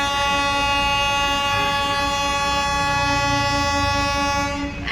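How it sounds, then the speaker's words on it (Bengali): A train's long, sustained horn or whistle drones steadily at Darjeeling railway station, loud and constant with rumbling machinery underneath. "ওই যে ট্রেনটা মনে হয় ছাড়বে এখন"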